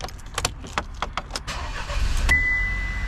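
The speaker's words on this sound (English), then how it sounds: "First thing you're going to want to do is turn your car on." A 2024 Chevrolet Trax being started: a few jangling key clicks, then the engine cranks and catches into a steady idle with a thin electronic tone, heard close inside the cabin.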